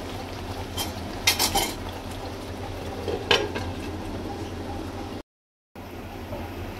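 Masala frying in a kadhai for mutton gravy, a quiet sizzle under several sharp metal clinks and scrapes of a spoon stirring against the pan, with a brief silent gap near the end.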